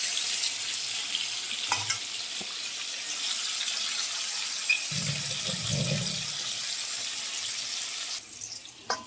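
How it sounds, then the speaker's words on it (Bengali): Potato pieces fry in hot oil with a continuous close sizzling hiss, broken by a few soft knocks and a short stretch of low rumbling from stirring, with no speech. "এখানে আমি তেলে আলু দিয়ে দিয়েছি আলুটা ভাজা ভাজা হোক"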